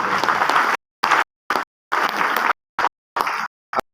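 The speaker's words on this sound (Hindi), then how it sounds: "जोरदार तालियां।" Loud applause from a seated audience at a direct selling business talk, breaking off into short separate bursts of clapping with silent gaps in between.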